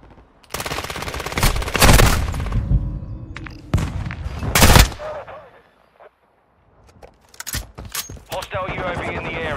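Gunfire in the video game Modern Warfare 2 during a Domination match on Shoothouse with the M13C rifle, loud close rapid bursts and explosive bangs, then a brief lull and radio-style announcer voices.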